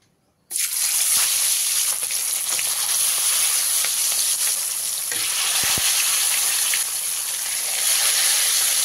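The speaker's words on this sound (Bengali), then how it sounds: "এবারে একে একে মাছগুলো দিয়ে ভেজে নেব।" Pieces of katla fish hit hot mustard oil and burst into a loud, continuous sizzle that starts abruptly and holds steady and close, with no voices.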